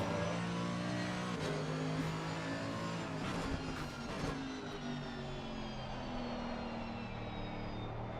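Race car engines in the racing video game Assetto Corsa Competizione whine and rev steadily as cars drive past, their pitch shifting over a continuous mechanical drone at moderate loudness.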